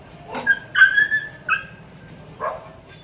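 Dogs give a few short yips and whimpering whines in sequence, fairly close and loud against a quiet outdoor background, with no speech.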